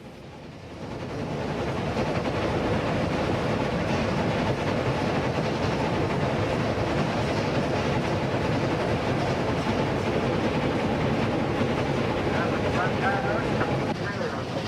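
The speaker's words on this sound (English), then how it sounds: "The engine speedometer indicates the train is gradually accelerating up the hill." A Union Pacific Challenger steam locomotive gradually accelerates uphill, heard as a loud, steady, dense rumble and roar that holds at an even level throughout.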